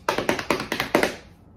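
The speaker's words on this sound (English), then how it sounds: "Drum roll, please." About five quick hand taps in a short rhythmic sequence, close and fairly loud, fading out after the last one.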